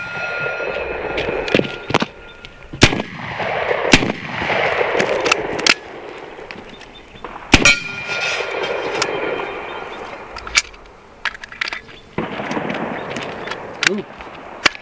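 Shots from a B&W Bin Tac S45 ring out as a series of sharp, irregular cracks spread over several seconds, with rustling and movement noise in between.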